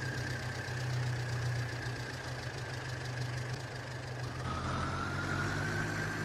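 An MTZ tractor engine idles in Farming Simulator 22, a steady low mechanical drone with a faint knocking texture, continuous and fairly quiet throughout with no talk over it.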